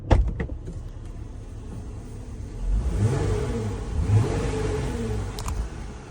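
A car engine hums steadily from inside the cabin, rising briefly as it revs, muffled and moderately loud.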